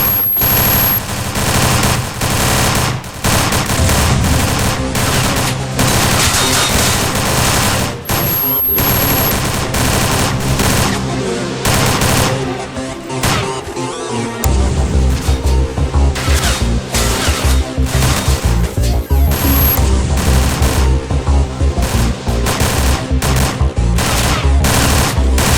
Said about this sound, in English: Why are you guys shooting at me?